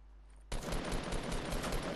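Video game gunfire erupts suddenly and continues as a dense, loud automatic burst.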